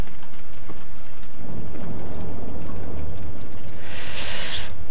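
Heavy rain roars steadily close up during a thunderstorm in the horror game Cry of Fear, with a low rumble of thunder building beneath it and a bright crack breaking out near the end.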